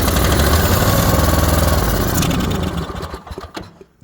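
An Ingersoll plow tractor engine, freshly repaired and primed with fuel, runs loud and steady from the start, then sputters and falters toward the end with uneven bursts and dropouts.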